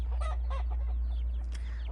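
Chickens cluck in short, repeated calls over a steady low hum, with a few brief higher squawks toward the end; the birds sound fairly close.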